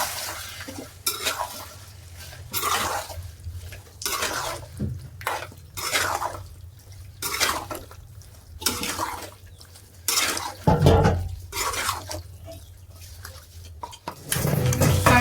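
Chicken gravy stirred in a pot, a rhythmic series of close scraping spoon strokes against the pan with wet squelching and light sizzling between, no talk.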